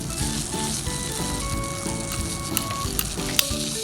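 Continuous crackling sizzle of vegetables frying in a small pan on a mini kitchen set, steady and close, with occasional sharper pops and stirring ticks and no talking.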